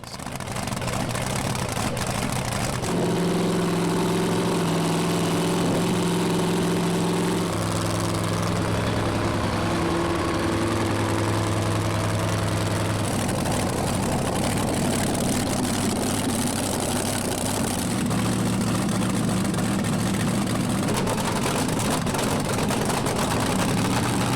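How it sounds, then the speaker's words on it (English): Supercharged dragster engines idling at a car show cackle fest, a loud, continuous low rumble with uneven lumpy throbbing and shifting tones, close and steady throughout. "supercharged engines roar to life and the ground rumbles"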